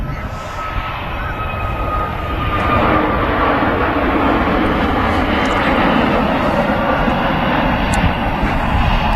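Aer Lingus Airbus A321neo jet rolling for takeoff at Manchester Airport, a broad, steady engine roar that swells after the first few seconds and holds loud throughout.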